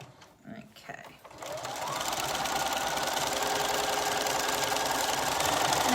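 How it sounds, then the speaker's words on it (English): Sewing machine stitching fabric under the presser foot, starting after some brief handling noise and then running as a steady, fast mechanical whir that grows slightly louder and stays close, with a person talking over it. "just help to feed that fabric underneath the presser foot"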